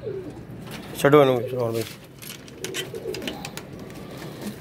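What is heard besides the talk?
pigeons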